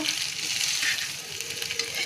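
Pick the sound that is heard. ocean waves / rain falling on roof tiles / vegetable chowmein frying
vegetable chowmein frying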